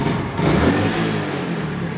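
A vehicle engine left unused for a week runs and revs briefly, a close mid-pitched roar that swells and then settles over two seconds.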